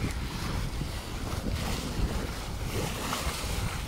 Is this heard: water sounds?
yes